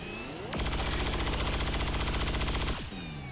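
Automatic gunfire in the modded XCOM 2 tactics game, a single loud burst of rapid, evenly spaced shots lasting about two seconds, then cutting off.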